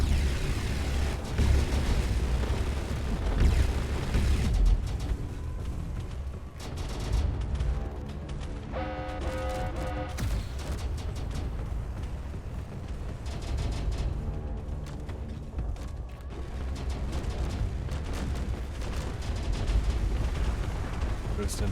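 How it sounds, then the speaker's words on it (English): Heavy weapons fire pounding a ship in a Space Engineers tournament match, a dense, continuous roar of booming blasts and rumbling impacts with bursts of sharper detonations, loud throughout, with a voice talking over it. "Oh, that's heavy fire on Zero."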